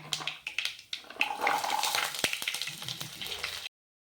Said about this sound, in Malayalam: എണ്ണ ചൂടായതിന് ശേഷം നമുക്ക് കടുക് ഇട്ട് കൊടുക്കാം.